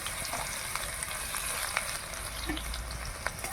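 Dried red chilli and chopped garlic frying in oil in a hot wok, a soft continuous sizzle with small pops and crackles, no talking.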